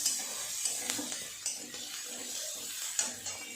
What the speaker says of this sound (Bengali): খুব ভালো করে এগুলো নেড়ে নেড়ে ভাজা করে নেব।